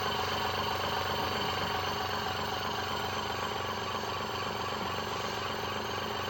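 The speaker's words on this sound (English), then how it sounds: "Again, we'll slow the motor down." A modified brushless DC motor runs in a looped setup with a constant, even mechanical whir and buzz, steady and unbroken throughout at close range.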